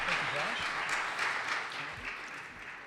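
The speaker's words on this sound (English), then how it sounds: "Please give our panelists a round of applause." Audience applause for the panelists at a summit on combatting anti-Semitism, steady clapping that fades slightly toward the end while a voice speaks over it.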